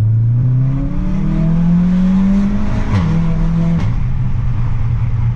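A car engine revs loudly and close, its pitch climbing and holding, then briefly dropping and rising again in a continuous roar.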